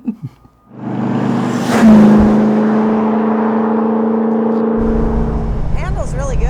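A 535 hp supercharged V8 in a widened MGB starts with a few sharp bursts, then settles into a loud, steady, close-up rev. The revving holds on, and the tone shifts near the end.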